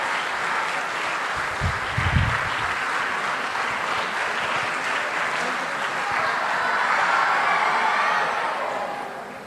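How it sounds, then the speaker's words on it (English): Sustained applause from an audience at a student quiz event as a guest is welcomed onto the stage, a continuous crowd of hands clapping throughout with a brief low thump early on and a slight swell near the end. "Claps."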